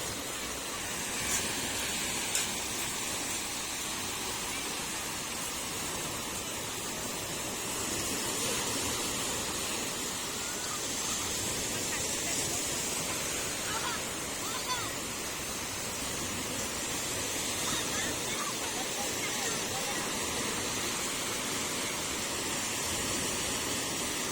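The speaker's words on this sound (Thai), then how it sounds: "ยังคลื่นแรงเหมือนกันนะครับ" Strong waves crashing at sunrise, a continuous broad roar of surf and spray without a break, steady and loud throughout.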